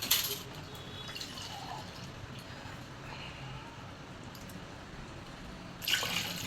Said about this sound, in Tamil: நம்ம வந்து நாலு காப்படி தண்ணி ஊற்றிருக்கோம்